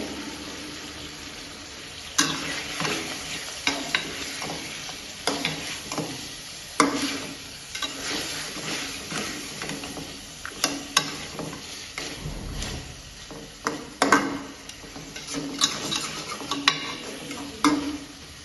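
Catfish frying in a pan alongside local potatoes, a continuous sizzle broken by frequent sharp scrapes and clacks of a spatula stirring the pieces, close and moderately loud with no voices.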